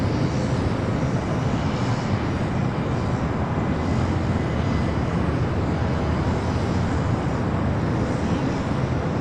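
Steady, loud broadband roar of a jet airliner at Los Angeles LAX airport, continuous and unbroken with no distinct events, heard from outdoors with faint traffic-like rumble underneath.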